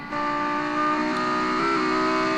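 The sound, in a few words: loud race car engine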